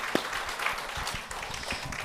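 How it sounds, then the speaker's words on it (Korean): A small audience at a televised Buddhist monk's lecture claps briefly, a soft, scattered patter of hands with a few distinct claps, fairly quiet and distant. "박수"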